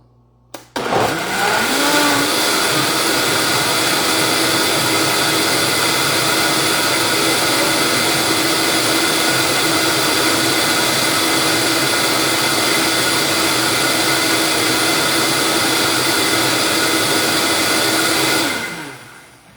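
A blender whirring a peach-cherry smoothie with ice, a loud, steady high-pitched roar that starts abruptly, runs for about seventeen seconds and then winds down.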